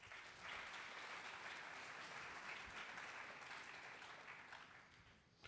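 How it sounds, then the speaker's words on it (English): Steady audience applause at a school scholastic honors night, a dense, even wash of clapping that holds for several seconds before tapering off, heard from some distance. "Students, please give all of your folks a round of applause."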